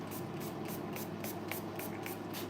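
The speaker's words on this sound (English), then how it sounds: "So I'm just gonna spray her with some Goddess polish." Goddess polish hair product is sprayed onto hair in a salon as a quick, even series of soft hissing spritzes, close and steady, with no voices.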